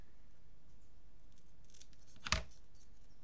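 Scissors snip once through paper strips for a scrapbook album page, a single crisp cut standing out against a quiet background.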